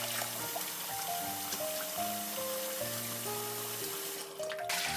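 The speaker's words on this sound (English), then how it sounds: "Rinse them with cold water." Cold tap water running steadily over homemade short Cambodian lort cha noodles as they are rinsed in a sink, a soft continuous splash under quiet background music.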